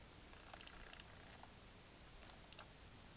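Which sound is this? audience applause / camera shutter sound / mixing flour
camera shutter sound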